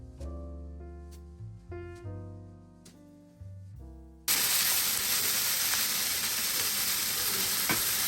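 Food hitting a hot, oiled pan bursts into a loud, steady sizzle after a few seconds of soft tonal music, the frying hiss then running on evenly and close for the rest of the stretch.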